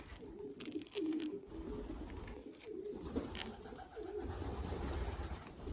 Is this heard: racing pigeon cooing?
yes